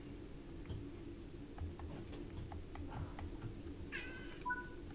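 A pet cat named Smudge gives a short, high meow near the end, faint and somewhat distant over steady low background hum and a few light ticks.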